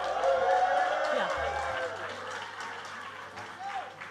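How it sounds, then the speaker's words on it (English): Dense applause and crowd noise fill a fashion show hall, a steady wash of clapping and cheering from a large audience with voices talking over it throughout. "Okay, crazy applause, go crazy, go crazy."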